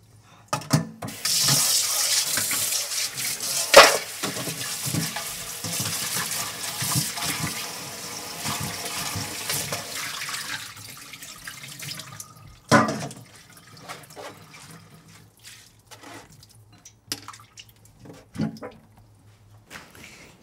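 Tap water runs steadily over salted jellyfish as it is washed in a kitchen sink, a loud close rush that later breaks into intermittent splashes and trickles.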